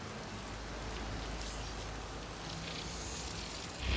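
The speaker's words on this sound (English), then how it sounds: "It's raining. How is it raining?" Rain falls in the Mass Effect Andromeda game world, a soft, steady hiss of drops on surfaces with faint low rumble beneath, staying quiet and even throughout.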